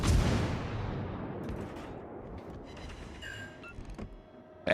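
Naval gunfire from the French battleship Richelieu in World of Warships: Legends: one heavy, booming salvo opens loudly, then rolls off into a long rumbling decay with a few faint clanks near the end.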